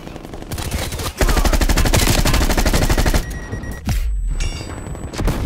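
Rapid automatic gunfire in a first-person video game shooter, loud dense bursts that cut off briefly and return, with a short crack and flash-grenade ringing later.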